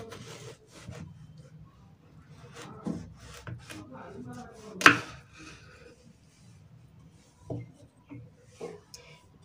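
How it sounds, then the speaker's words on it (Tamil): Knife cutting a piece of watermelon in half for juice, giving soft scraping and slicing strokes with one sharp crack midway, close and fairly quiet. "இப்போ இதை வந்துட்டு பாதியா கட் பண்ணிக்கலாம்"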